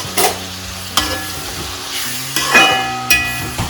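Onions frying in a pan for biryani are stirred with a few distinct scraping strokes over a soft steady sizzle, close and moderately loud, with no voices.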